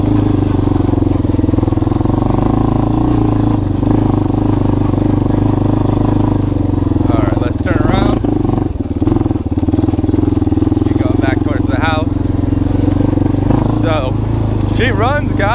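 A Yamaha Warrior 350 ATV engine runs steadily after a carburetor rebuild, a loud, close, continuous rumbling idle with slight revs, and someone talks over it.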